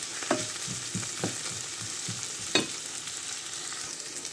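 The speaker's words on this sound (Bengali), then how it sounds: "এবার আমি এটাকে ব্রাউন কালার করে ভেজে নেব।" Sliced onions and a pinch of whole cumin seeds fry in oil, a steady soft sizzle broken by a few sharp spoon taps and scrapes against the pan, close and alone without voices.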